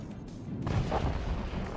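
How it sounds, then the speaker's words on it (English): Howitzer firing in the strategy game Forts, a deep muffled boom with low rumbling that swells and lingers briefly, fairly quiet and heard alone. "Howitzer fired."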